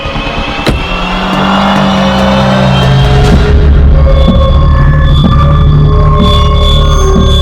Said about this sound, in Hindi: तूने अभी तक गाड़ी बंद नहीं की?